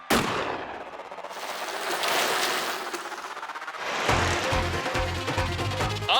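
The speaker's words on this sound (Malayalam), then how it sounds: "വെടിയുണ്ടയുടെ ശബ്ദം കേട്ടതും തന്നെ എല്ലാവരും മത്സരം തുടങ്ങി" A gunshot signals the start of a race: a sharp crack at the outset, followed by a burst of loud, noisy commotion and further impacts, with no voices heard.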